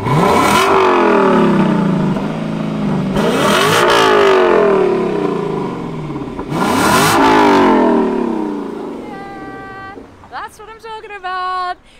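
A Lexus LC500 in Sports Plus mode revs hard three times, each loud blip rising and falling back, followed by a few sharper short bursts near the end; no talking is heard.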